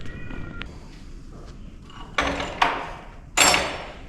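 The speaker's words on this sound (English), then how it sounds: "I hear a kitty cat" A cat meows several times nearby, with faint early cries followed by three loud, drawn-out meows spaced about a second apart, with no talking.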